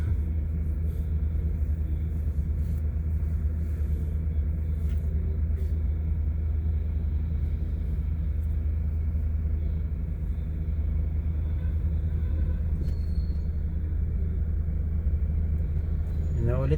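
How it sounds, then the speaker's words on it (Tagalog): Heavy road traffic on JP Rizal Street in Makati: a constant low rumble of many cars and engines crawling in congestion, steady and close for the whole stretch, with occasional faint higher engine notes. "Tindi ng traffic. Sa dami talaga ng sasakyan."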